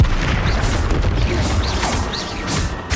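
Fiery blasting spell explosions in the Hogwarts Legacy wizard game, a loud continuous roar of booms and crashes with whooshing bursts layered on top.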